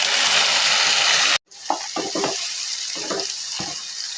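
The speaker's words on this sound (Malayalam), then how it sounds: "അരിഞ്ഞു വെച്ചിരിക്കുന്ന തക്കാളി ഉണ്ടല്ലോ, അതും കൂടെ നമുക്ക് ഇട്ടൊന്ന് വഴറ്റാം." Chopped tomatoes sauté in a pan for a jackfruit seed and rib curry: a bright, continuous sizzle cuts off abruptly, then softer frying continues under several separate stirring scrapes.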